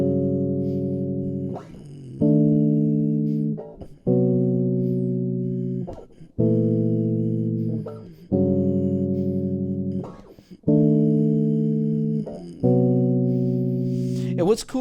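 A chord played on an electronic instrument, stepping through a series of sustained chords that shift in minor thirds, each held about two seconds with short attacks between them, clear and fairly loud.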